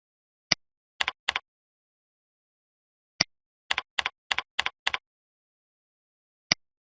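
Keystrokes on a computer keyboard while a tracking number is entered on a Medicaid enrollment status web page: quiet, close clicks in short bursts of two or three keys, spread out with pauses between them and no voice.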